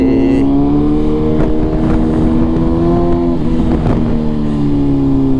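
A BMW S1000RR sport motorcycle is out on a ride, its engine droning loud and close with steady harmonic tone that dips slightly mid-way, under continuous wind rush and a few sharp transient knocks.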